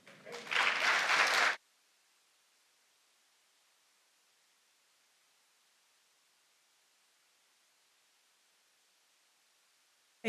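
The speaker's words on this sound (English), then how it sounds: "I think he deserves a much warmer applause." A short burst of audience applause at the Development Bank of Namibia's 20th anniversary lasts just over a second and then cuts to near silence.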